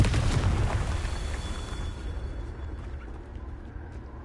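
A Confringo blasting spell from Hogwarts Legacy goes off in a loud, close burst that rumbles and decays into a fading roar over a few seconds.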